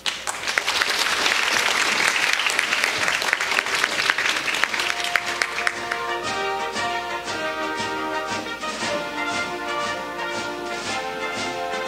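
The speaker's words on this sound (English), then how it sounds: "Please give a round of applause for them" Audience applause at an honorary doctorate award ceremony builds into dense clapping as guests come on stage, then thins as music-like tones rise beneath it.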